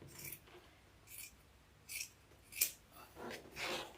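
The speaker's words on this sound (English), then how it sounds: "I'm just going to cut kind of around." Scissors snip around material for a rose wreath in a series of quiet, separate cuts spaced through the clip, with no talking.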